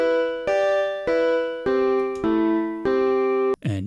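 A Sonicware Liven Evoke synth plays a piano tone layered with a sine wave a fifth above. Six sustained notes sound one after another, each struck cleanly and decaying, followed by a brief pitch-bending blip at the end.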